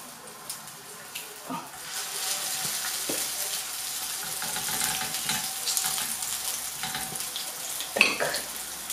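Minced meat patties sizzle in a frying pan with a continuous crackling hiss, broken by occasional clatters and knocks of kitchen utensils close by.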